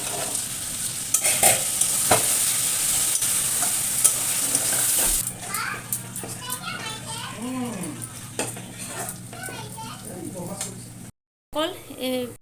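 Goat meat sizzles and bubbles in a pot while a utensil stirs and scrapes against it, with frying hiss and clinks up close, and voices, including children's, chatter over the cooking through the second half.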